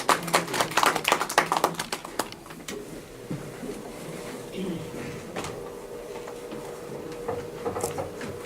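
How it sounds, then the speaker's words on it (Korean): A small audience at a seminar on an ecosystem assessment of Gimpo Airport claps for a presenter. A brief burst of close, crisp hand claps dies away after a couple of seconds into a quiet room. "큰 박수 부탁드립니다"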